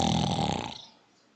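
A voice imitates a loud snore, a single rough, rattling inhalation that fades out, followed by a brief sharp sound at the end.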